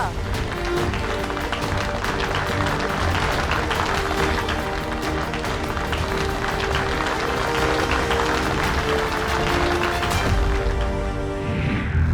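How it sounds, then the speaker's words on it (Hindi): A crowd applauds loudly for the brave boy Vivaan after he kills a snake, a thick, continuous roar of clapping mixed with music and dramatic sound effects throughout. "शूरवीर विवान के लिए जोरदार तालियां।"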